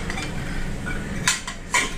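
Steel kitchen utensils clink and clatter as they are handled in a home kitchen during dishwashing, with two sharp metallic clinks standing out over a steady low background.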